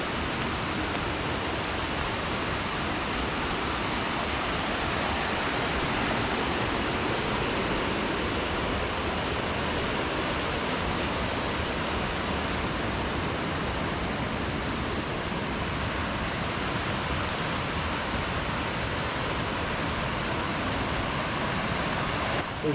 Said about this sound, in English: you head to the crossing of the main fork of the Dosewallips River